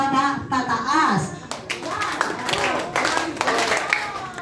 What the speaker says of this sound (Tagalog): pumalakpak po kayo ng 4 na beses mula baba pataas